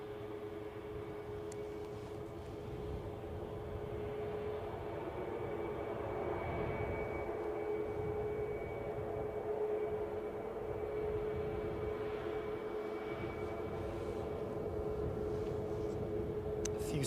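A Boeing 737 MAX airliner's engines drone steadily at Edinburgh airport, heard from a distance with a low, even rumble that swells slightly and stays fairly faint throughout.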